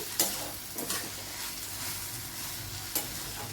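Beetroot halwa with dry fruits, cardamom powder and grated fresh coconut is stirred in a steel pot, with a soft continuous sizzle and a few sharp spoon scrapes against the metal.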